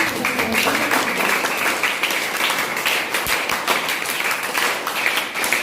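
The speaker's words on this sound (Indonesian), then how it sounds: "Iya, beri tepuk tangan dulu." Students in a classroom clap together for a few seconds, a dense, even patter of many hands at close range, with little else heard over it.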